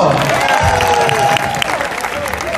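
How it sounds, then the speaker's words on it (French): Audience at a Valentine's Day gathering applauding loudly, a dense continuous wash of clapping that runs for a couple of seconds alongside a voice and a sustained musical tone. "Est-ce que vous pouvez vous applaudir très fort?"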